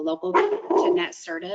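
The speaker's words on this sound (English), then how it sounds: "I apologize for my dog in the background." A dog barks in the background, a few short barks under a person talking close by.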